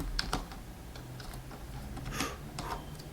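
Quick bursts of close typing on a computer keyboard with tape stuck over the keys, irregular clicks and taps with short pauses between them.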